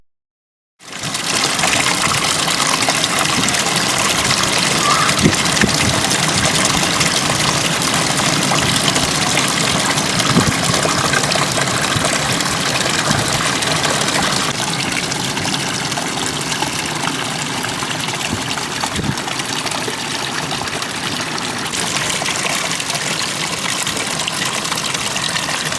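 A perennial freshwater stream flows by a beach, a loud, steady rushing and gushing of water that runs unbroken from start to finish with no voices.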